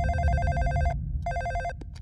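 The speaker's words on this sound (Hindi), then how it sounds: "फोन मेरे लिए है।" A telephone bell rings loudly in a dubbed Hindi action movie scene, two bursts of ringing separated by a short pause, with a low rumble of room sound underneath.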